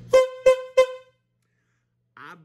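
Three quick, loud honks from a horn sound effect in a steady rhythm, then silence and a brief, fainter tonal blip at the end.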